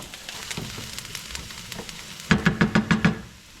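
Just under three pounds of ground chuck goes into a hot pan for sloppy joes, a steady frying hiss followed by a quick series of rhythmic knocks and scrapes, fairly close, with no talking over it.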